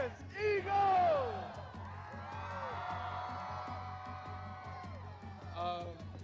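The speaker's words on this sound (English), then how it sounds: "It's a hell of a crowd out here." A large crowd yells and chants together, a sustained roar of many voices rising and falling, heard from within the crowd.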